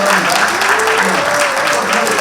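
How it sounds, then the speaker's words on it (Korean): Church elders clap in celebration of a congregation's anniversary, a bright, steady round of applause heard close by while a melodic voice or music rises and falls over it. "박수 축하합니다"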